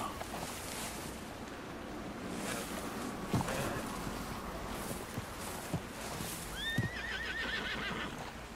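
Horse neighing and whinnying with hoof clip-clops and splashing water in Red Dead Redemption 2, a steady outdoor bed with a few sharp hoof knocks and a rising whinny near the end, no talk.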